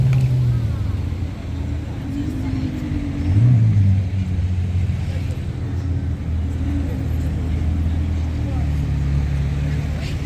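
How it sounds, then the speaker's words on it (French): A car arrives on a Monaco street with a low engine rumble that swells and briefly revs as it passes nearby, while a person talks over the traffic. "Autre voiture qui arrive."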